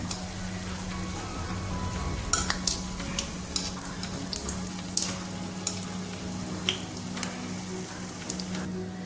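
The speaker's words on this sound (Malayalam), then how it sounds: "നമുക്ക് അടുത്ത് മാവും കൂടെ ഒഴിച്ചു കൊടുക്കാം" Neyyappam batter made with jackfruit sizzles and fries in a pan, a steady close hiss broken by scattered sharp clicks and scrapes of a utensil against the pan.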